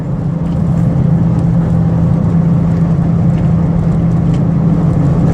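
A 2003 Ford Windstar LX wheelchair mobility van with 248K miles cruising at about 70 mph on the highway, giving a loud, steady interior drone of road and engine noise with a constant low hum and no talk.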